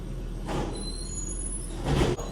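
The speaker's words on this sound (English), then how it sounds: "With a garbage truck right outside my door." A garbage truck works just outside a house door, giving a steady low engine rumble with two hissing bursts, one short and one louder near the end, like air brakes or hydraulics.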